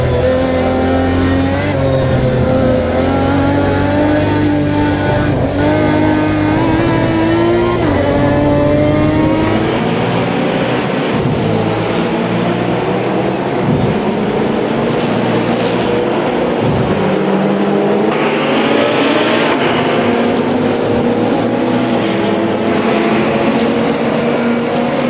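GT1 race cars from the 2005 Spa season in the Automobilista 2 racing game, engines roaring loud and continuous as two cars battle side by side, revs rising and falling through gear changes with no talk.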